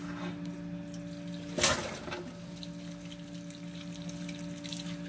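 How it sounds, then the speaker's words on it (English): A recirculating pump runs on a Buehler Oscillamet polisher with both valves closed: a steady mechanical hum with a low water wash, plus one louder splashing burst near the middle. "turn on the recirculating pump. This will show you that that's working properly."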